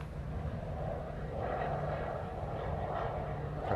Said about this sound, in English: This is a PC-12.